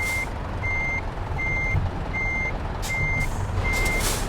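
Reversing beeps from a truck in Euro Truck Simulator 2. Each beep is a clear, high, evenly spaced tone, roughly two per second, sounding alone over a steady low engine rumble.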